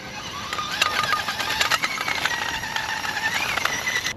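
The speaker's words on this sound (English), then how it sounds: "Body's rattling around quite a bit, sound like a tin can" Unlatched body shell of a Meus Racing MB18 RC truck rattles tinnily over a whining electric drivetrain while driving off-road, a busy continuous clatter of loose plastic with rising and falling motor pitch.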